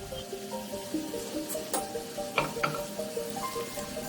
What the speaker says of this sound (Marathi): सगळी शंकरपाळी तेलात सोडून घेवया